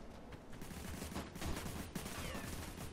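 Rapid, sustained gunfire in the video game Orion Dino Horde, dense automatic shots layered with battle noise throughout, at a fairly low level.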